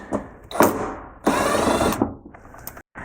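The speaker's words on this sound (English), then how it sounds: "we're going to remove these 3 8mm screws" Three 8mm screws being removed from the rear wheel well of a BMW M2, heard as short close whirring and clicking bursts of a ratchet or power driver separated by brief pauses.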